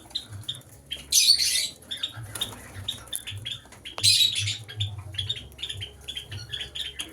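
Several cockatiels squawk and chirp in sharp bursts from close by in a cage, with quieter calls and faint rustling of movement between them and no talk.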